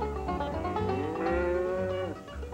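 A cow moos in a milking parlor: one long, drawn-out bellow that swells in the middle and then cuts off, heard close over a low barn background.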